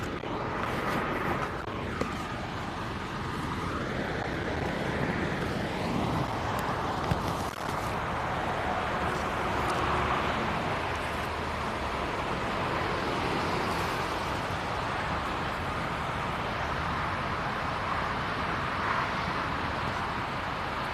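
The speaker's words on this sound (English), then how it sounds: "Yeah, car's coming." A car passes on a road in Denmark, a broad rushing swell that rises early and fades, with steady wind and traffic hum underneath.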